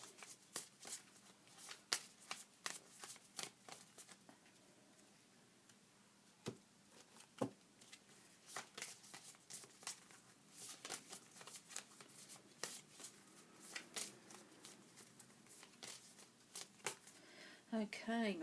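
Tarot cards are shuffled and riffled repeatedly at close range, crisp flicks and taps in an irregular rhythm, with a soft voice at times.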